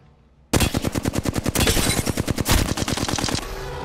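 Loud, close rapid-fire automatic gunfire from the video game Apex Legends, a fast regular volley of shots lasting about three seconds, then a lingering tail.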